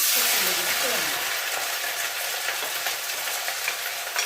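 Sliced onions and shallots dropped into hot oil for a chicken coconut milk curry give a loud, dense frying hiss at first, which settles into steady sizzling with light stirring clinks.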